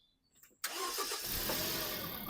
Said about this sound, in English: Start the car and rev RPM